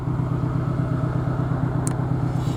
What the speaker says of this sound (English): You've got your sport exhaust, which you can hear the difference when you switch it off